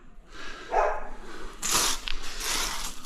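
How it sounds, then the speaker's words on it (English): Dogs bark a few times in the distance at a home where a bathroom is being tiled, with scattered sharp bursts against a quiet background and no talk. "Dogs are still woofing."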